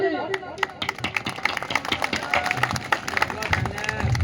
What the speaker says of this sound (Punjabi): ਤਾੜੀ ਲਾ